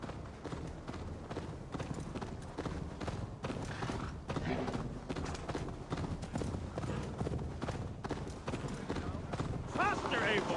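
Horse hooves clip-clopping at a gallop in Assassin's Creed Valhalla, a steady rhythmic beat running throughout under game music and spoken dialogue.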